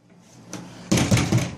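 An interior door that will not open is shaken and rattled, with a quiet start followed by several loud, close clattering knocks and jolts that come in uneven bursts.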